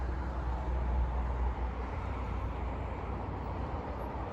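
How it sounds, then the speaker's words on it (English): Steady road noise: a constant low rumble and broad hiss of tires on pavement, heard from inside a moving vehicle, without talking. "Sorry about the road noise."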